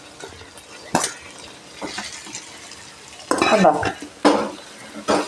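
A utensil stirs crushed kanthari chili in a frying pan with scraping strokes and clinks over a soft sizzle, the strokes coming in spaced bursts, with a brief spoken word in between.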